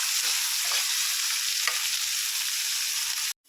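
String beans and shrimp sizzle steadily in a hot pan while being stirred, a constant bright frying hiss with a few soft scrapes, close by, before the sound cuts off abruptly.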